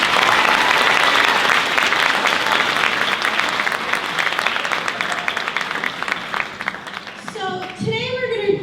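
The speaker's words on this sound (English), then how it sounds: "So let's give Mr. Nissen a round of applause." Indoor audience at a school honor society event breaks into sustained applause, dense clapping that holds for several seconds before a voice begins speaking over the tail.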